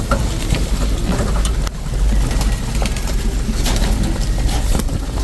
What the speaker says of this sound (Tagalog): Ice pigeon.